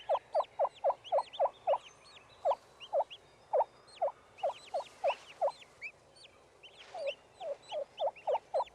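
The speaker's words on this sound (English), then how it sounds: "the hen stands, signals with a special call, and walks away from the nest" A wild turkey hen gives a special call to her freshly hatched poults as she leaves the nest, a series of short, rhythmic clucking notes in quick bursts with brief pauses, fairly clear against quiet outdoor background.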